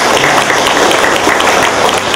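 Sustained applause from an audience at a Buddhist lecture thanking the organisation's staff, camera crew and volunteers, dense steady clapping filling the whole stretch at a loud, even level.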